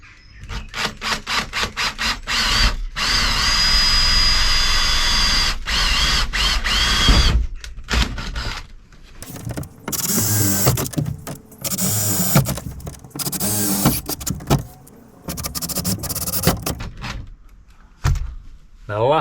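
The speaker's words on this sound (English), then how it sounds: "I've just got a small drill bit in here just so it marks the metal" A power drill with a small bit bores pilot holes through the metal wall of a VW Crafter van during a camper conversion, whirring in several close bursts of varying length with short pauses between, while a voice speaks at times.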